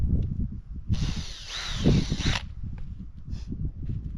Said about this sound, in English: When I'm drilling that orifice,